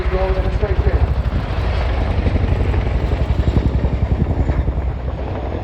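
An RAF Chinook CH-47 twin-rotor helicopter at a Royal flying display makes a loud, steady rotor thump with engine roar, fast regular blade beats running throughout, with a voice talking over it.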